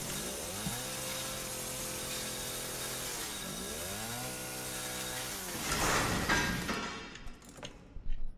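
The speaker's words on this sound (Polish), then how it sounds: "To piła do metalu jest." A metal saw in Resident Evil 7 revs with a loud buzzing whine, rising and falling in pitch twice before a rougher grinding stretch and a few sharp clatters near the end.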